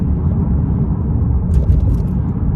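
A Lexus RC300H F-Sport hybrid coupe drives along a road, giving a steady low cabin rumble of engine and road noise with a few faint clicks near the end.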